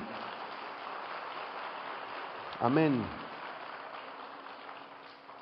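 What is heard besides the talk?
congregation applause for Jesus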